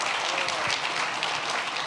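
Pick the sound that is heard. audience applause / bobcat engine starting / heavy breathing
audience applause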